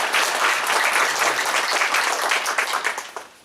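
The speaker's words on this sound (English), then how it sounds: "Give Nick a round of applause" Warm, dense applause from the audience at a Pacific Lamprey Summit after a speaker's talk, loud and steady before thinning into a few scattered claps as it dies away.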